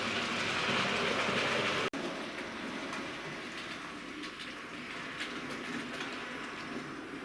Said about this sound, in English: my tests are thorough and the trains run around in both directions.